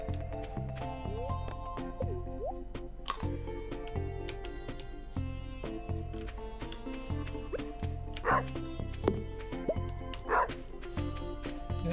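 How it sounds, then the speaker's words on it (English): A pixel-style dog in the farming video game Stardew Valley gives a few short, bright barks that pop out over the game's steady, plucky background music. "There's my dog."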